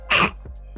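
A single sharp sneeze bursts out close by, brief and loud, followed by a couple of faint breaths.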